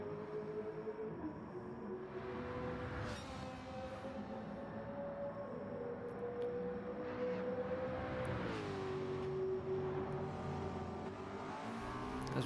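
A race car in Gran Turismo 7 braking into a corner at the Nurburgring GP circuit, with the engine pitch sliding down and rising again between gear changes, a steady mid-level drone with faint other cars, and no talk.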